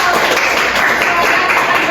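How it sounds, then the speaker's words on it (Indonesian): A class of schoolchildren clapping together in a classroom, a loud, continuous burst of many small hands with some voices mixed in. "Beri tepuk tangan dong."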